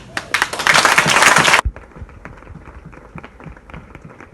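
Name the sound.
applause at a funeral in memory of the deceased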